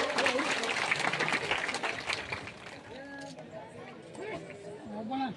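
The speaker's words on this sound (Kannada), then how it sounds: "ಜೋರಾಗಿ ಒಂದು ಚಪ್ಪಾಳೆ ಕಟ್ಟರೆ" Crowd applause at a temple fair religious gathering, a dense burst of clapping in the first half fading out, with an announcer speaking loudly over it and through the rest.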